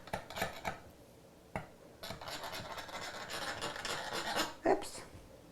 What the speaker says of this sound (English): I'll take my knife and I'll trim it off